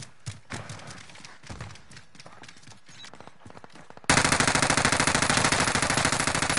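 Gunfire in Call of Duty Warzone, set in Verdansk: a burst of scattered, sharp reports, then a dense, loud, rapid string of shots like sustained automatic fire that runs to the end without pause.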